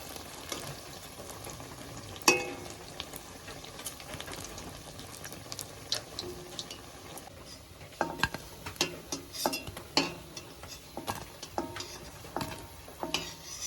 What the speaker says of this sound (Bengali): এবার একটু উল্টিয়ে দিই, দু পিঠ সমান সমান ভাজা হয়